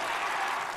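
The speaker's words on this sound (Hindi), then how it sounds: "किम जोंग उन फूला नहीं समाता और तालियां बजाकर अपनी कमांडो फोर्स की तारीफ करता है।" Kim Jong Un applauds a commando force's stunt demonstration. The clapping is a brief, dense, steady burst that fills the moment with no voices over it.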